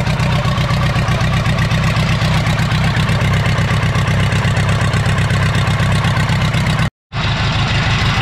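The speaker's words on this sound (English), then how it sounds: "It even idles, although it's shaking the whole earth." A Komatsu D31S track loader, left sitting over ten years, idles loudly up close with a steady low rumbling throb, cut by a brief dropout near the end before the engine sound resumes.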